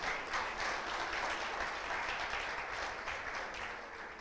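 A church congregation applauds, a dense, even wash of clapping at moderate distance that holds steady for a few seconds before slightly fading.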